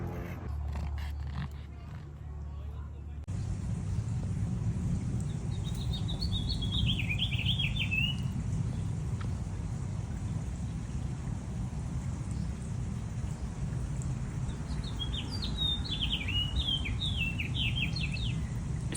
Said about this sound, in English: there are bird sounds